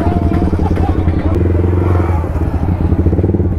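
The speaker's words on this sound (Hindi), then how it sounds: "अभी बाइकों को पार्किंग में लगाते हैं और फिर चलते हैं, चलते हैं पार्किंग में" Motorcycles rumble steadily as they are ridden into a local parking area near Amer Fort in Jaipur, with engine chug close by, some clatter and voices in the background.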